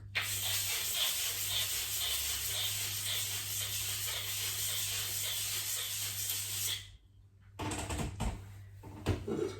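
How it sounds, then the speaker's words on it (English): Sandpaper-covered wood blocks rubbed together in steady, close scratchy strokes form a dense hiss for several seconds, then stop briefly before a few rougher rubs return. "You can also put some sandpaper on two pieces of wood and make a sand block."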